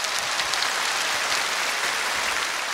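A TV singing contest audience in a hall applauds, with a steady dense wash of clapping from many hands that holds even throughout, fairly loud and without speech.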